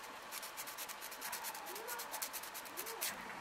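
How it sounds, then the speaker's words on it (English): Soft, quick rubbing strokes of sandpaper on a Bandai Yo-kai Watch Jibanyan plastic model kit, a faint close-up rhythmic scratching repeated in a steady series. "So I'm just sanding these down"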